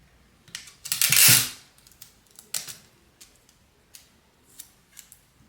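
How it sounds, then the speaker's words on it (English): Paper bills being folded and creased by hand for a money bouquet, a loud crinkling rustle near the start followed by scattered short, sharp paper crackles and taps, close up with no talking. "we're gonna fold our bills and let's get it together"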